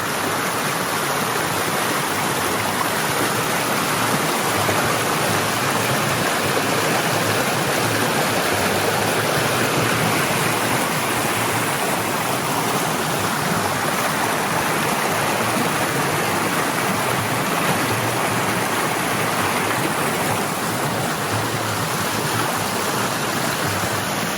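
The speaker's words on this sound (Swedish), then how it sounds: "Det är bra fart på vattnet mellan Mellanmarviken och Nedre Marviken också." Fast-flowing stream water between two lakes in Sweden rushes continuously and loudly, a dense steady roar with no voices or breaks, in November.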